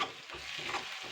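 Onion with turmeric, garam masala, salt and chilies stirred in a frying pan, a close, steady scrape and sizzle running through the whole short stretch without any talk.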